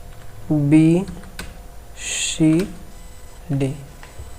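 A few sparse, light key clicks come from a computer keyboard while text is entered in WordPad, spaced between short bursts of vocal sound.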